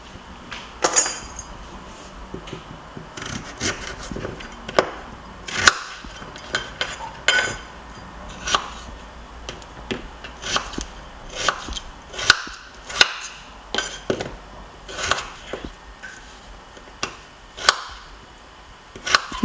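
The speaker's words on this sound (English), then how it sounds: "I'm going to start chopping them up now" Potatoes being chopped with a knife on a board for a Ghanaian meat pie filling: repeated sharp, close knocks at an irregular pace, with occasional light clinks of utensils and no talking.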